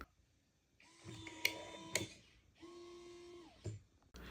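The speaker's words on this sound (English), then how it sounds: "It is quieter than most locks that I've tested out." A TP-Link Tapo DL110 smart door lock running its motor to lock, giving two short mechanical whirring bursts with sharp clicks, fairly quiet and close, alone in a still room.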